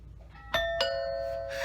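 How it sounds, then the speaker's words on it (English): A Logitech Circle doorbell chimes two bright notes, ding then dong, with the second tone ringing out and fading. "We're gonna ring the doorbell, see what happens."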